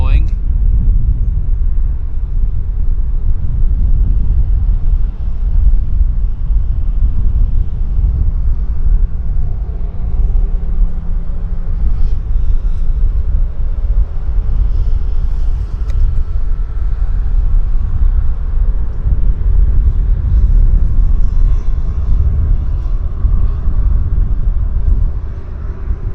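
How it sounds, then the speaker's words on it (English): Short, stubby Boeing jet airliner at Vancouver International Airport, a loud continuous low engine rumble that holds steady throughout, with voices talking over it. "It's a nice short and stubby Boeing."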